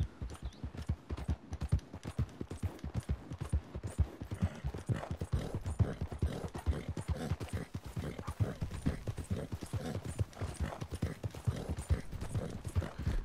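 Steady, rapid clip-clop of horse hooves trotting on hard ground in Red Dead Redemption 2, continuous and fairly close throughout.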